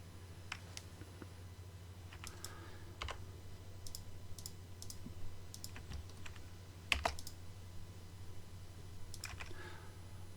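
Sparse computer mouse clicks while working in Inventor CAD software, selecting lines to apply constraints: short, quiet, scattered clicks with some close pairs, over a low steady hum and no talk.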